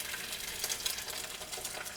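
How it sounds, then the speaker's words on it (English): Steady, faint crackling and hissing of eggs frying in a pan, a dense sizzle with small pops throughout. "you glance at him as the eggs sizzle"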